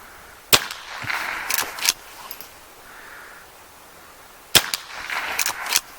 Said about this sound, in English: We're just going to shoot some of these bottles off in the distance